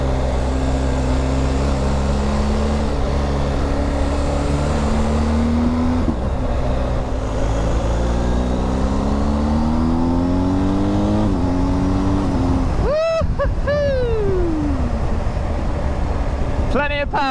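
BMW R1250 GS Adventure motorbike accelerating along a country road, its engine tone rising steadily through the gears under loud, constant wind rush, with a brief faster rev sweep near the end.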